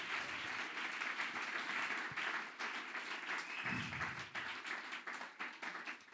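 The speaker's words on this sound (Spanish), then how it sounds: "Denle un aplauso al Señor." A church congregation applauds during a worship service, a broad, steady wash of many hands clapping together, sustained and fairly even in loudness throughout.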